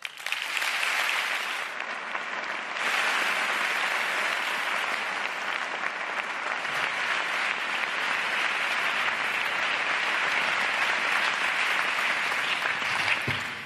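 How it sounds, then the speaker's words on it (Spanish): Sustained applause from a large audience at the Princess of Girona Awards ceremony fills the space, steady and dense throughout with only a slight dip early on. "Un aplauso."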